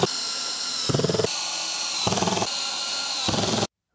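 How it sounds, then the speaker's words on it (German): A cordless drill drives screws into an IKEA Malm dressing table. There is a steady whir with three short ratcheting bursts as each screw seats, then it cuts off abruptly. "Das kann man entweder mit einem normalen Schraubendreher machen oder wie in meinem Fall einen Akkuschrauber verwenden"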